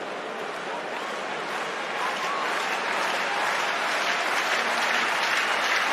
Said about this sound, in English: Crowd as animated as they've been at any stage during the evening.